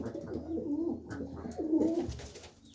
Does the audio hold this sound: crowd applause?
no